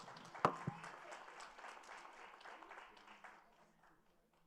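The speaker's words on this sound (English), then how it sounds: "Big round of applause for Kim." A round of applause at a regular public meeting, moderately distant clapping from a small crowd that starts with a sharp thump and fades out over a few seconds.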